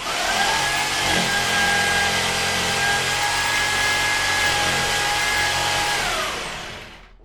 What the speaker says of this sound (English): But just for the moment, I'm just going to cut with the jigsaw.